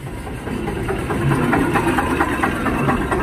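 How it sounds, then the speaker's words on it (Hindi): A Sonalika 740 DI tractor engine idles steadily at a used tractor market, loud and close, with a regular knocking diesel throb under a constant rumble. "यह है सोनाली का सात सौ चालीस डी आई ट्रैक्टर काफ़ी शानदार है"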